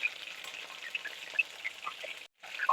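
Paneer pieces dropped one at a time into hot oil for hotel-style chilli paneer, giving a steady soft sizzle with small crackling pops, fairly quiet, with a brief silent gap near the end.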